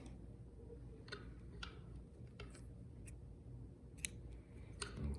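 Quiet snips and clicks of a tool trimming 14 gauge black and red wire for Philips Hue landscape lights, a handful of brief, close, faint cuts against low background hiss.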